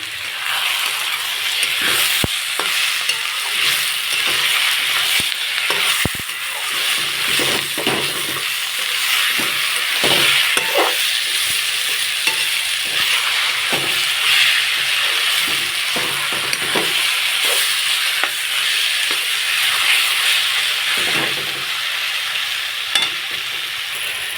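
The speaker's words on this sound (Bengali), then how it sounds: "মশলাটা ভাজা ভাজা হয়ে এসছে মশলা থেকে তেল ছাড়া শুরু করেছে" Spices with salt and turmeric frying in oil in a pan for a chicken and papaya curry, giving a loud, continuous sizzle and hiss broken by frequent scrapes and knocks of stirring, with no talking.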